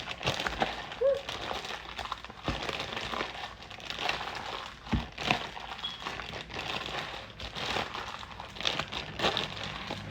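Plastic bag crinkling and rustling steadily as raw ingredients for homemade hamburger helper are mixed inside it by hand, close and continuous with a few sharper crackles.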